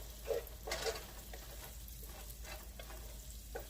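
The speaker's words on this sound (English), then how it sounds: "It's going to cook for about 5 minutes or until the onions start getting translucent." Onions sizzling and frying in a pot for broccoli and cheddar soup, a steady low crackle with a few louder stirring bursts, close and quiet, no talking.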